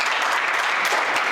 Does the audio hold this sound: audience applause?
yes